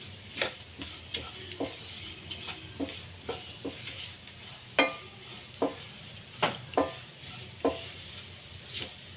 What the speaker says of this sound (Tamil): கொஞ்சோண்டு ஆயில் ஒரு ஒரு நிமிஷம் வதக்கிக்கோங்க அந்த பச்சை வாடை போகிற வரைக்கும்